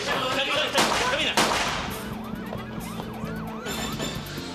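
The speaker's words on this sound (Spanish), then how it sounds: "Ahí viene una ambulancia" An ambulance siren wails in rising and falling sweeps, heard amid loud, cluttered street noise with a couple of sharp bangs near the start.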